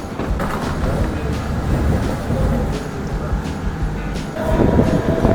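A MEMU passenger train between Gudur and Renigunta rumbles along, its engine and wheel noise steady, then swelling louder near the end as it gathers pace.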